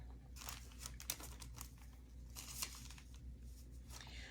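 Crackly crinkling and short tearing sounds of tape being pulled off and pressed down onto fabric for a sublimation transfer, coming in irregular bursts close by, fairly quiet with no talking.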